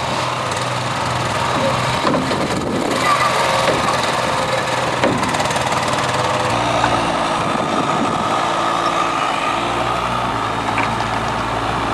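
A dumper's engine runs steadily at close range while sand is spread for a new lawn, a continuous droning hum with a slight shift in pitch partway through and no pauses.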